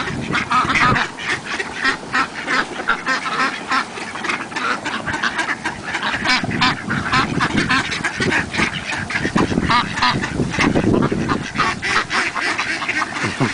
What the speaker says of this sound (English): Those ducks are pretty hungry.